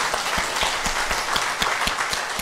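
A church congregation applauds steadily, a dense wash of many hands clapping together indoors.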